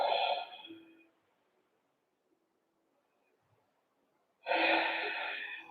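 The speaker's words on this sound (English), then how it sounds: "Keep breathing, strong breath." Two forceful, breathy exhalations during a power yoga session, each a close, rushing burst of air separated by about three seconds of near silence.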